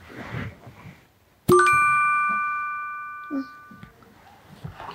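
A mobile phone message notification rings out as a single bright, clear ding that lingers and slowly fades, followed by a softer short chime, with faint voices before and after.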